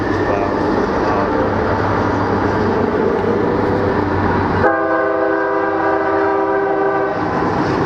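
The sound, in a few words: train passing by, loud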